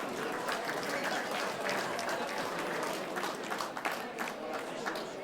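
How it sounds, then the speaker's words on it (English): Crowd at an anniversary gathering of a sports club in Wantirna, Victoria, applauds a sponsor, Puma; steady, loud, sustained clapping fills the room with occasional whoops. "Big round of applause for Puma."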